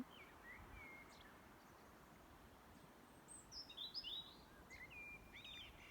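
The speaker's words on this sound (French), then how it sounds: "Peut-être entendez-vous le chant des oiseaux." Distant birds chirp and trill in short, scattered bursts over a soft, steady outdoor wash of background noise.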